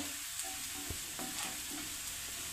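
Onion sautéing briefly in a pan for masala pav, a steady soft sizzle with an occasional stir or scrape, close and fairly quiet with nobody talking.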